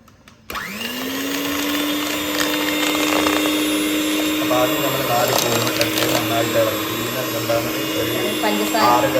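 An electric beater whirs steadily as it whips cake batter with sugar, a loud continuous motor drone starting abruptly and holding for several seconds with slight changes in pitch as it works the mixture.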